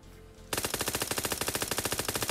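Rapid automatic rifle fire in PUBG Mobile, a steady burst of evenly spaced loud shots lasting about two seconds after a brief quieter lead-in, with no talk.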